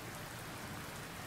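Steady, dense rainfall hisses continuously in a horror camping video game, loud and even throughout with no voices.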